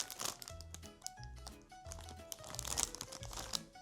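A crinkly plastic chips bag torn and pulled open by hand, dense close crackling and ripping in quick bursts, fairly quiet, with a faint steady tone in the background.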